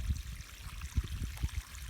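Water running and trickling as it refills a pig wallow pool, a soft steady flow with small low splashes and gurgles, fairly quiet and heard alone without voices.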